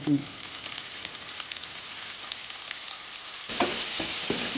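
Four large chopped onions frying in a pan for a tandoori chicken dish, a steady close sizzle with faint stirring, growing louder and brighter near the end, with no talk.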